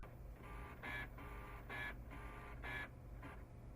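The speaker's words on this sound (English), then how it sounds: "Wait for the printer to turn on and stop making noise." An HP Deskjet 3520 inkjet printer whirs and clatters as it starts up, with repeated mechanical bursts of the carriage moving back and forth over a steady low hum.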